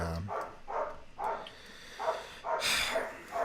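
A happy dog gives a quick series of about seven short, evenly spaced barks, close and moderately loud, with no one talking.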